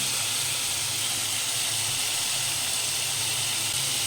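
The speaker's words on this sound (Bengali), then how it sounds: "জিরে দেওয়ার পর অল্প জল দিচ্ছি, খুব বেশি জল দেব না" Water poured onto cumin paste and softened tomato frying in a pan gives a steady, loud, continuous sizzling hiss that holds unbroken throughout.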